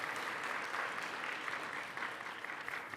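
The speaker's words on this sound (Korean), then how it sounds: "박수로 크게 치하해 주시기 바랍니다." Steady, dense applause fills a chapel service as the congregation claps loudly for honored alumni, holding an even level for the full few seconds without any voices.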